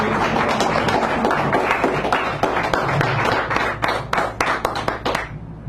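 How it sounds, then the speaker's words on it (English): Applause from a small audience at a San Francisco café poetry hour, a dense run of close handclaps lasting several seconds before thinning into a few scattered claps and fading out. "Clara Sue, give her a nice round of applause."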